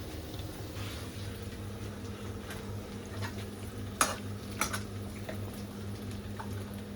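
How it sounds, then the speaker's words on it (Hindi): Diced potatoes and bell peppers fry in a pan while being stirred, giving a low, steady background with a few soft scrapes and sharper clinks of the spoon against the pan; no one speaks. "बहुत बढ़िया से फ्राई हो गए आलू और शिमला मिर्च"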